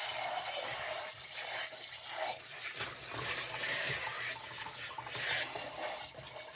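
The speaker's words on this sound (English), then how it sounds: "I want to rinse the outside of the barrel a little bit too." Tap water runs steadily into a sink as a rock tumbler barrel is rinsed of excess grit, a close, continuous splashing hiss with slight shifts as the barrel moves under the stream, with no talking.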